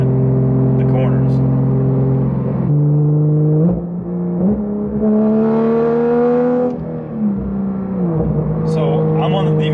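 A Porsche 992 911 GT3 engine drones from inside the cabin on a winding Toronto highway, a strong steady tone rising and falling through gear changes and throttle shifts, loud and continuous.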